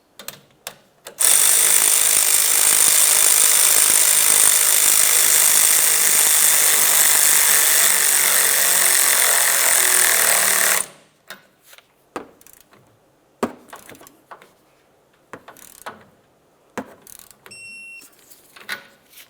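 Power tool tightening the locking nut on a sway bar link of a 1994-2002 Dodge Ram 2500 during a leveling kit install: one loud, steady whir held for about nine seconds, followed by scattered clanks and handling noises.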